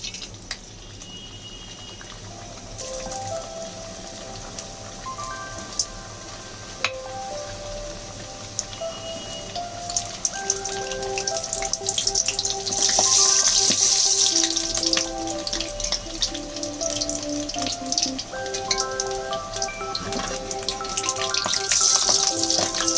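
Chicken samosas fry gently in about two cups of refined oil over a low flame, giving a steady soft sizzle and bubbling that grows slightly busier and louder partway through, with no talking.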